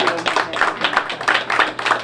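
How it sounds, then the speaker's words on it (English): A small group claps in quick, uneven bursts, the sound close and fairly loud, lasting a couple of seconds. "give him a round of applause"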